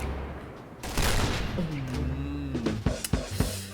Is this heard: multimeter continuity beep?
no